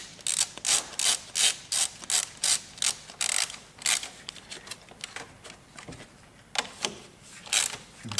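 A ratchet tightening the battery terminal clamp on a Ford Explorer, with quick bursts of clicking strokes repeated in a rhythmic series, close and clear, with pauses between sets.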